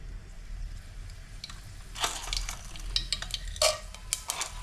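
Mustard seeds crackle and pop in hot oil while a brinjal, potato and bean curry is started, the hiss quiet at first, then sharper crackling bursts in the second half, fairly close.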